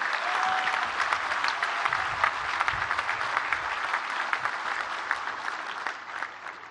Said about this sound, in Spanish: doble aplauso para nuestro presidente